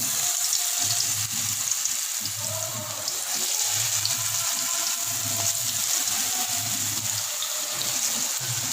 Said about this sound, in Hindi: अब हम इसको फ्राई करेंगे। तो आइए फ्राई करते हैं।